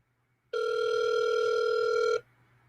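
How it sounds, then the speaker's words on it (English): A single steady ringback tone sounds on a telephone line for under two seconds, clear and alone against a faint hum, then cuts off. "It seems like the phone should probably be answered"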